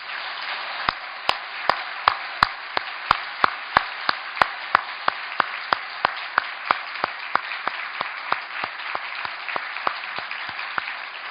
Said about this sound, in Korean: 마음껏 다시 한번 박수하도록 하겠습니다